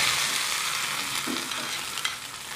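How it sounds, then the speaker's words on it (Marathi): A hot tempering of mustard seeds, cumin and curry leaves in oil is poured into coconut chutney. It gives a loud, close, continuous crackling sizzle that slowly eases off. "ही फोडणी आपल्याला चटणीमध्ये ओतायची आहे"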